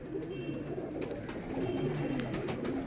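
A baby Highflyer pigeon coos softly in low, repeated throaty murmurs against a quiet background, with no talking.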